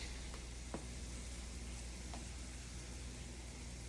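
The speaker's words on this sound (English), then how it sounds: "We are sauteing this up." Vegetables for a vegan curry meal prep sautéing in a pan, a steady broadband sizzle with a few faint clicks of stirring, continuous and close with no voices.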